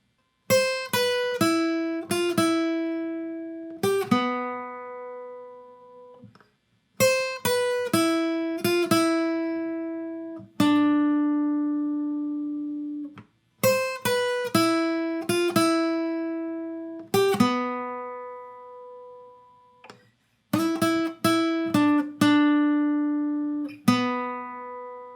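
Acoustic-style guitar picks out a song's melody in clean, ringing single notes and short phrases, played solo and close with brief pauses between passages.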